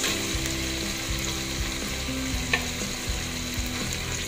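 Green beans and carrots sizzle and crackle steadily in a hot pan of chicken for pansit bihon, a constant close frying hiss with faint scraping of stirring and no voices.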